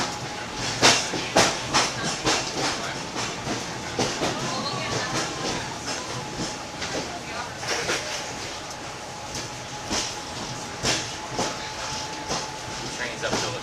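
A Hong Kong train climbing uphill, with steady rail hiss and wheel rumble, a faint sustained tone and scattered clicks and clacks throughout, heard from on board while people talk.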